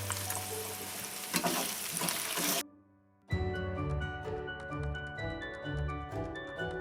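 Ingredients with spring onion are stirred and fried in a pan, giving a close, busy sizzle with scraping and clatter, a brief near-silent gap midway, then continued frying and stirring.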